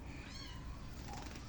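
A cat meows faintly in the background of an outdoor fishing scene, two soft rising mews under a steady noisy outdoor ambience.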